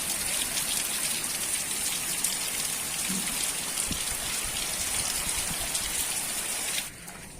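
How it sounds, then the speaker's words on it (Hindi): Heavy summer rain pours down in a dense, constant hiss and patter with no pauses, then eases abruptly just before the end. "बहुत गिरे है पानी आज"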